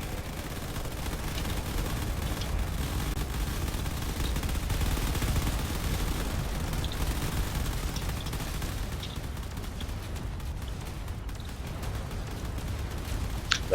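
Point defense guns blaze continuously at incoming torpedoes during a space fleet battle in a video game, a dense, steady rumbling barrage with no pauses, loud and unbroken throughout.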